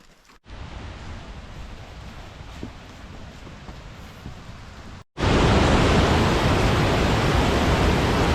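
Waterfall on an October visit to Michigan, a steady broadband rush of falling water that holds constant for several seconds, then abruptly cuts to a much louder, closer roar of water with no voices.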